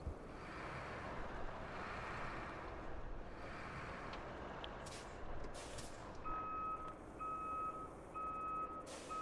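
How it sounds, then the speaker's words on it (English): A truck in the driving game RoadCraft sounds steady, evenly spaced reversing beeps over a low engine rumble and wind noise, with the beeping starting partway through and repeating to the end. "get the beeping noise out of my face"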